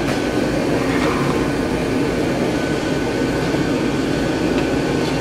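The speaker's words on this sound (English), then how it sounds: "if I set the machine right, I should have very short blows" Electric power hammer forging regular steel for an edge tool, pounding in a loud, dense and steady stream of rapid blows that runs through the whole stretch without pause.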